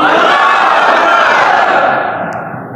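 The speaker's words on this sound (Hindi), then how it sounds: "फरमाया वो आवाज है नारे तकबीर की आवाज" A crowd at a religious gathering shouts the Naara-e-Takbir slogan, a single loud, sustained collective roar with echo that fades out over its last second.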